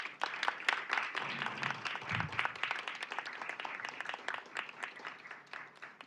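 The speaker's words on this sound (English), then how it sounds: "I would like for the audience to please recognize them and give them a round of applause" An audience at a school board of education meeting applauds the PAVE Jazz Ensemble, with dense, steady clapping at a faint-to-moderate level that holds throughout, plus a brief low murmur partway through.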